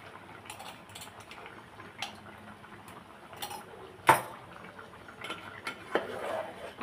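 A spoon stirs tiger prawn masala in a pan, with intermittent clinks and scrapes of metal against the pan, one sharp knock, and a faint bubbling simmer underneath.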